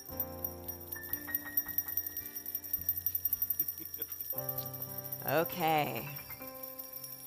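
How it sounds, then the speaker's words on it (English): Many small hand bells are rung by an audience at a spiritual service, with overlapping tinkling tones that ring on and cluster into a brighter burst near the end. A voice briefly speaks. "start ringing your bell"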